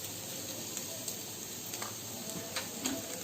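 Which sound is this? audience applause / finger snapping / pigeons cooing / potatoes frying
potatoes frying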